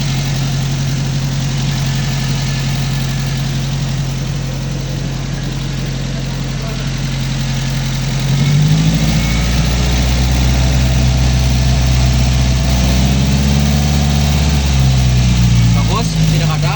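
A car engine idles steadily during a periodic service check on a lift, its low hum growing rougher and heavier partway through, with a voice talking over it.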